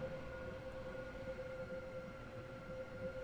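A Roblox train pulls into Stepford Central station with a steady, even rumble and a sustained tonal whine, continuous and moderately loud throughout with no talking.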